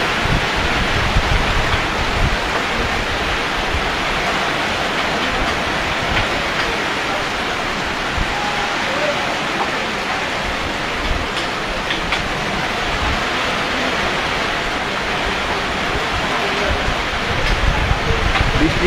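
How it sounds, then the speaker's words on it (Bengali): Heavy rain with a light wind pouring down in Chandpur, a dense, unbroken roar of broadband noise that stays loud and steady throughout, with no clear voices above it. "আপনারা দেখতে পাচ্ছেন কি পরিমাণ বৃষ্টি হচ্ছে।"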